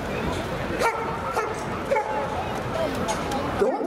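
Police dog at a public dog-handling demonstration barks and yips repeatedly at a suspect throwing pieces of fire hose at it, the barks loud and close over steady crowd and event noise.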